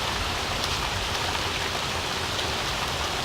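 Steady rain falls on a road, a dense, even hiss of drops spread across the whole stretch with no breaks or other sounds.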